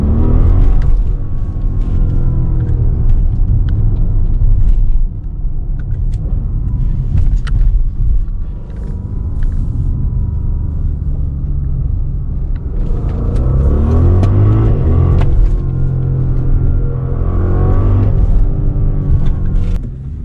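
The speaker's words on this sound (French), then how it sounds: "Dès qu'on appuie sur l'accélérateur, on sent que la voiture elle part de suite." An Audi RSQ8-R tuned by ABT to 740 hp accelerates hard, its engine rumbling deep and loud from inside the cabin, rising in pitch through several surges with short drops between gear changes.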